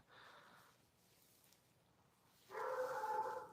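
Dogs barking and yipping at a distance, a short faint burst followed by a louder, sustained stretch of barking near the end over a quiet room.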